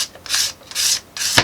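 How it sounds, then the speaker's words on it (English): Three rhythmic strokes of 320-grit sandpaper rubbing rough patches on stretched watercolor paper, close and crisp, each a soft hissing scrape followed by a brief pause. "I'm using a 320 grit, and I'm just sanding down just the very"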